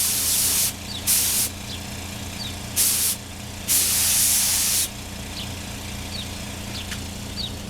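Spray gun laying pearl white topcoat over a white base on a Yamaha FZ600: sharp hissing bursts of air and paint, three short ones and one longer blast, close and loud over a steady low hum.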